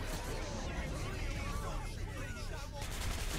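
Dense, continuous gunfire from the video game Hatred, a sustained barrage of overlapping shots with a roaring, noisy texture and no clear gaps.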